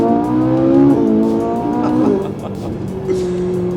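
A Ferrari 458 Italia V8 fitted with an aftermarket exhaust revs loudly and steadily up close. Its pitch dips sharply near the midpoint, then settles into a lower drone with no talking.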